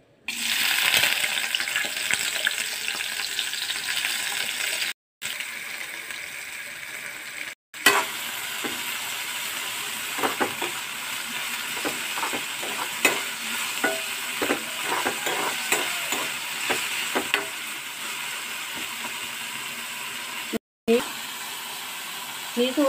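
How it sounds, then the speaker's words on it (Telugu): Washed dried shrimp fry in two tablespoons of oil in a pan, giving a continuous hissing sizzle with frequent scraping stirs and clinks, broken by a few brief silent gaps. "ఎండు రొయ్యలను వేసి వేయించుకోవాలి."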